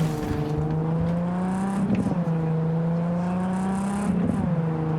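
Car in Cyberpunk 2077 accelerating at full throttle, a steady loud engine whine climbing in pitch through gear shifts, close and continuous with no talk.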